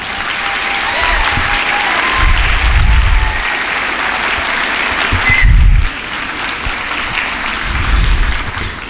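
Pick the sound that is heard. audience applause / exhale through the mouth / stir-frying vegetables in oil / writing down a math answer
audience applause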